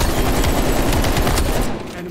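A gun fires in rapid automatic bursts in Call of Duty Cold War. The shots are loud and close and overlap densely, then cut off abruptly near the end.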